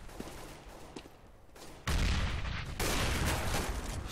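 Gunfire in the Counter-Strike map de_inferno during a competitive match: scattered single shots at first, then a sudden dense burst of rapid fire that continues with a short break.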